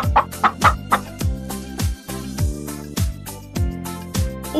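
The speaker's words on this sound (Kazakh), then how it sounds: "Тауық, балапан." A hen and her chicks cluck in a children's cartoon about farm animals and their young, with several quick, loud calls early on over a steady backing of rhythmic music.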